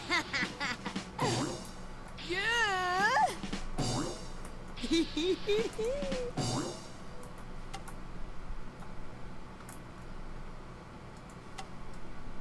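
Cats in Fallout 4 meow repeatedly, several drawn-out rising and falling cries clustered in the first half, then fading to scattered clicks and light game noise; a voice may be faintly present.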